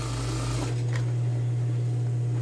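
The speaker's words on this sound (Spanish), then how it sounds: "Paso donde está el cierre con cuidado para que no me rompa la aguja." A sewing machine runs through stretch fabric on a pair of women's shorts near the zipper, producing a loud, continuous motor hum that stays steady throughout.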